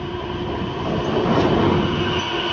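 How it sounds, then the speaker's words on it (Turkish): An Istanbul metro train near the Golden Horn rumbles loudly close by, with a steady roar of wheels on rail and a faint high squeal. "Şu an metro geliyor, evet."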